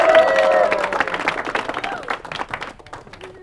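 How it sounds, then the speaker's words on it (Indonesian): Audience clapping in response to a call for applause at a game-show style event, a burst of claps fading over a few seconds with voices and tonal sounds mixed in at the start. "tepuk tangan dulu."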